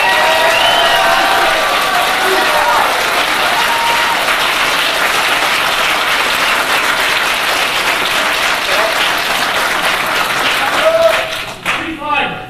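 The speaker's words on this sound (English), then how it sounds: "let's give Mark that applause again, so he can hear it" A hacker conference crowd at Hackers On Planet Earth 1994 claps and cheers loudly and steadily for a long stretch, then the applause breaks off abruptly near the end as a few voices and sounds cut in.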